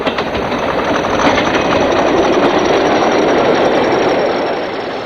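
A British Rail Class 40 diesel locomotive, 40024, hauls a northbound chemical train with barrier wagons at Scraniston, a loud continuous engine roar and rolling wagon noise that swells slightly mid-pass and eases at the end.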